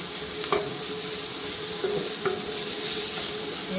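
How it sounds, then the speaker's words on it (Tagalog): Garlic, onion and ginger frying in a pan for chicken tinola, a steady close sizzle with a few brief stirring clacks and scrapes of a utensil against the pan. "Hayaan nyo lang mag-caramelize yung bawang, yung sibuyas, at saka yung luya."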